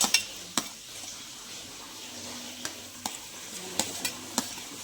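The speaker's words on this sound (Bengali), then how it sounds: "এবার পেঁয়াজটাকে একটু নাড়ছি" Onions frying in a pan for a dal tarka with garlic and ginger, stirred with sharp utensil scrapes and clinks over a steady soft sizzle, close by with no talking.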